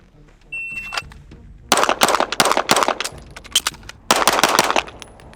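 Rifle shots fired at close and far steel targets on an outdoor range, a quick string of sharp, loud reports in two bursts broken by a brief pause for a reload.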